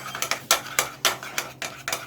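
A spoon beats a chocolate and egg-yolk mixture hard in a bowl, producing quick, irregular clinks and scrapes about four per second, close and fairly loud, with no talking.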